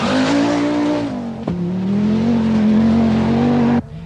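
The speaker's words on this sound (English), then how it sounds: "The ford in Hamsterley Forest is deeper than ever, but it doesn't deter Mikkola." A 1982 Lombard RAC Rally car drives through a deep ford in Hamsterley Forest in the rain, its engine droning loud and close with a sustained rising and falling tone, then cutting off abruptly.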